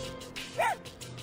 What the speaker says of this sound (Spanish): Buen perro.